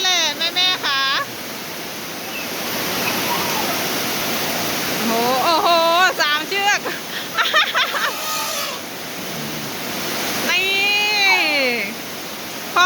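Heavy rain pouring down in a dense, loud, continuous roar, with people's voices and excited shouts rising over it at intervals.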